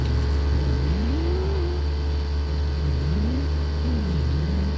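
A car engine in a video game revs up and down in several rising and falling sweeps over a steady, loud engine drone, with no talking over it.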